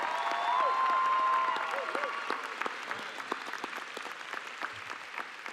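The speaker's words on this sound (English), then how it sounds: "Let's give them a round of applause." Audience applause at Miramar High School's 2025 commencement at Nova Southeastern University: sustained clapping from a large crowd, loud at first then thinning to scattered claps, with a voice speaking briefly over the start.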